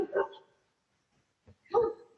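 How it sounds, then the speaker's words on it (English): A dog barks in the background of an indoor conversation, two moderate barks about a second and a half apart with a faint soft sound between them. "I don't know if you can hear my dog barking in the background."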